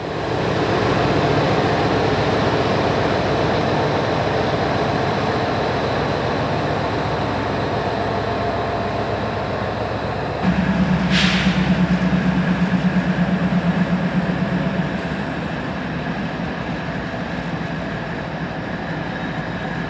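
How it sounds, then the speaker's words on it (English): CSX freight train M642 shoving a long cut of cars back into a rail yard, a steady loud rumble and rolling wheel noise throughout, with a brief high squeal partway through and a heavier low engine drone for a few seconds. "CSX train M642 shoves back into Bar Yard with their impressive train of traffic from the Indianapolis Metro"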